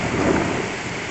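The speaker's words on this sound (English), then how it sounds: "we're getting the lightning and the thunder's right overhead now" Rolling thunder rumbles overhead amid a heavy summer rainstorm in England, a dense, loud, continuous roar with steady rain hiss and no voices.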